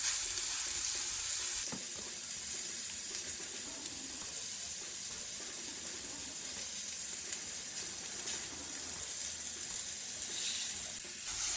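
A steak sears in a hot pan, giving a steady, close, loud sizzle and hiss that runs unbroken, with a brief clatter near the start and no talking.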